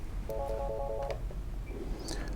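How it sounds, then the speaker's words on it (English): A telephone rings with a short electronic trilling ringtone, one clear burst of repeated tones, fairly near, followed by faint room noise. "Oh, there's a phone coming."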